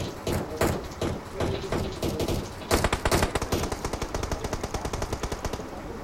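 Rapid automatic gunfire in the PUBG Mobile battle royale game, with rattling bursts that turn into a steady fast string of close shots near the end, with some faint talk.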